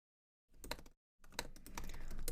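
Rapid keystrokes on a computer keyboard while entering a Heroku login in a terminal, two bursts of clicking separated by a short pause, close and clear with no voices.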